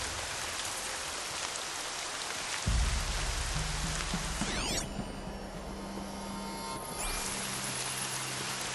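Steady rain falls in the Horizon Zero Dawn video game, a dense continuous hiss with a low hum entering partway through and a brief sweeping effect in the middle, no voices.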